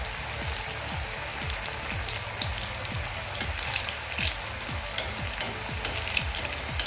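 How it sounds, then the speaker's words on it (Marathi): Cauliflower and pea koftas deep-fry in oil over a medium flame, a dense continuous crackling sizzle with frequent small pops, close and steady with no voices. "या तेलामध्ये जेवढे मावतील तेवढेच आपल्याला कोफते फ्राय करायचे आहेत"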